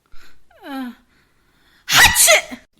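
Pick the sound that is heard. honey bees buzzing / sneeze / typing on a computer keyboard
sneeze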